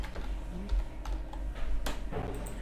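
A few scattered keystrokes tap on a computer keyboard over a steady, noisy room hum, with no talking.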